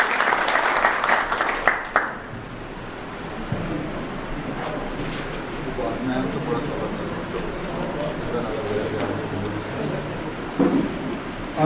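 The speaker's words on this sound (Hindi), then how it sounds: "एक बार जोरदार ताली बजा दीजिए।" Audience applause at a community association's reorganization ceremony, a burst of clapping at the start that fades into a diffuse murmur with scattered claps and background noise.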